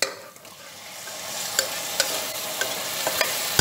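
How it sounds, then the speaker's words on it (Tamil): Tomatoes sautéing with softened onions in a pan for tomato rice, a steady close sizzle with occasional sharp clicks of a spoon stirring against the pan. "தக்காளி ஆட் பண்ணிட்டு நல்லா வதக்கணும்."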